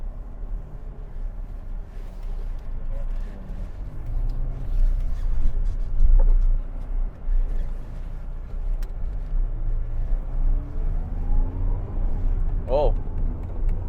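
A 2018 MG 3 1.5 V hatchback on a test drive hums with a steady low engine drone and road rumble from inside the cabin, rising slightly as it accelerates, with someone talking over it.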